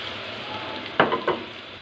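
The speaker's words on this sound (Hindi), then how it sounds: "अब हम इसके अंदर अदरक लहसुन का पेस्ट, सब्ज़ मिर्चों का डाल देंगे" Ginger garlic paste and green chillies sizzle in a kadai of hot oil, a steady hiss rising into two sharper, louder bursts of crackle as they hit the oil, with no talking.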